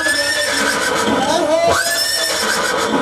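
A horse whinnies amid a crowded religious festival gathering, its neigh rising and falling over steady background chatter and music.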